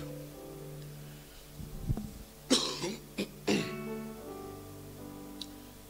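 Three sharp coughs in quick succession from someone with the flu, close by, over a steady low background hum, with a short breathy sound just before them.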